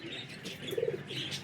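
A French breed pigeon gives a soft, brief cooing call close by, a short low burble in the middle of a quiet moment.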